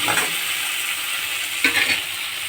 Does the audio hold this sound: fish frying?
yes